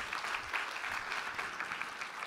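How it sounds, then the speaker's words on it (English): Audience applause at a startup pitch competition semifinal on a deep tech stage, steady dense clapping from a crowd throughout, fairly even and moderately loud. "A round of applause to WatchBuild."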